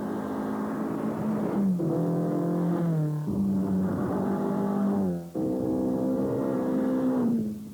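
Ford Anglia rally cars at a Targa rally event rev their engines in repeated rising surges, several pulls in a row with brief dips between, close and strong.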